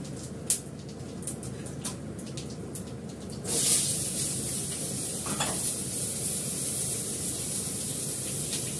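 Panch phoron and fennel seeds tempering in hot oil: a close, continuous sizzle with a few sharp crackles early on, then a sudden louder burst of spitting that settles into a steady hiss, with no talking.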